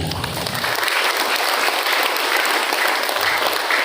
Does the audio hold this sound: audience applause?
yes